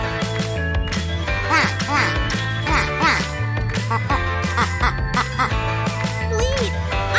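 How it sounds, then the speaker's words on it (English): A duck quacking in a farm animal lesson for children, repeated rhythmic quacks over a steady musical backing track. "Quack, quack! I'm a duck, and I love swimming in ponds."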